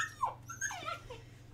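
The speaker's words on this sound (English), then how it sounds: "He's barking." A dog gives a few short whimpering yips and a soft bark-like cry indoors, brief and fairly faint over a low steady hum.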